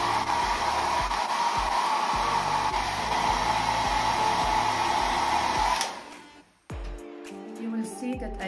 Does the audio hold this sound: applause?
no